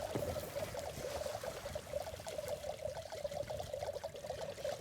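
Grog poured in the Sea of Thieves video game, a continuous liquid trickle with a bubbling, gurgling burble, fairly quiet and steady throughout, no voices.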